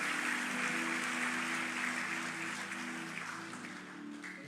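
Church congregation applauding Jesus during a service at GBI Lippo Cikarang, a steady broadband wash of clapping that holds for several seconds, with a sustained musical tone underneath.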